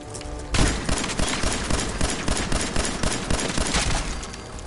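Sustained volleys of video game gunfire erupt after a brief quiet start, shots rattling in fast irregular bursts that stay loud and continuous to the end as enemies are shot.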